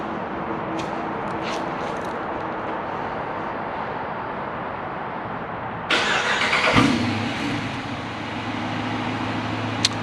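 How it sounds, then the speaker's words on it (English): A remote-started Dodge Charger R/T with the 5.7 Hemi V8, a former police car, runs as a steady loud rumble that surges to a brief rev near the end before settling back to a deep idle. "we're gonna do a quick little remote start so you guys hear this car in all its glory."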